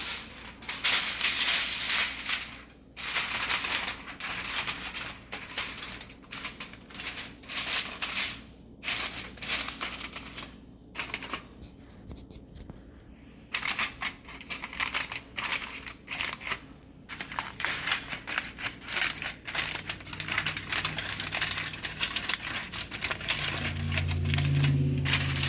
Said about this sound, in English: So I've covered with a foil paper